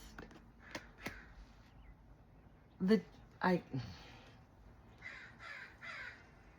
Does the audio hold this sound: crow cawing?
yes